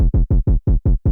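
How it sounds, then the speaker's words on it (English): Thumpy trap kick drum sample repeats six times in a fast even rhythm, each deep punchy hit with a short tail, loud and dry with nothing else playing. "Nice thumpy kick."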